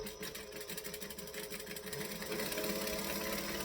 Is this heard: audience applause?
no